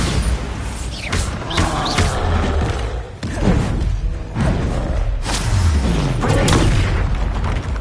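Heavy, booming magical blasts from the Bombarda spell in Hogwarts Legacy, repeated thumps and explosions that fill the whole stretch at a loud, steady level with whooshing bursts between them.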